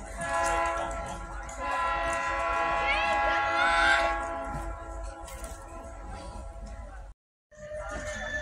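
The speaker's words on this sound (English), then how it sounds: "The train's coming. I heard the horn." An Oil Creek and Titusville train approaching with its horn sounding: long, sustained tonal blasts that rise in strength, then ease off over a rumbling background. A brief dropout near the end cuts the sound.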